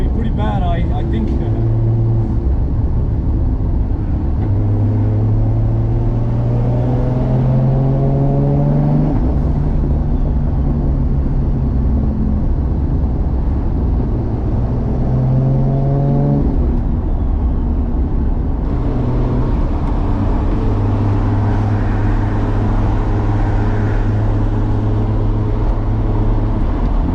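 MK3 Toyota Supra with a 2JZ engine, 60mm turbo and six-speed swap, heard from inside as it accelerates through the gears, engine pitch climbing and dropping with each shift while a person talks.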